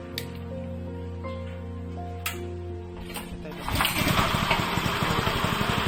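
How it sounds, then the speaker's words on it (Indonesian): A pellet-making machine's engine runs steadily at a low idle hum, then revs up after a few seconds into a louder, rougher churning roar that carries on to the end. "kita hidupkan mesin"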